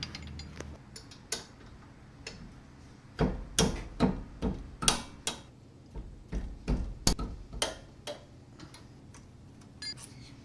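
Wrench loosening brake caliper bolts on a 2017 Mazda Miata MX-5 rear wheel, a series of sharp metallic clicks and knocks in an uneven ratcheting rhythm, close, with no speech.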